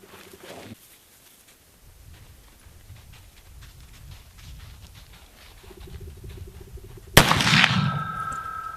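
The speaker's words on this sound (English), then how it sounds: "Sarah's going to try a shot with this in a sitting position using this rest." A rifle fired from a sitting position on a rest outdoors, one sharp loud report near the end after a quiet stretch, followed by a short ringing decay.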